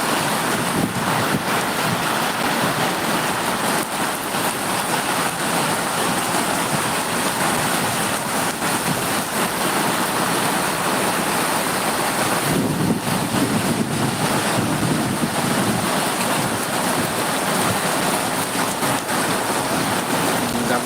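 Heavy summer rain pours down steadily in Bangalore, a dense, unbroken roar of noise that stays loud and even throughout.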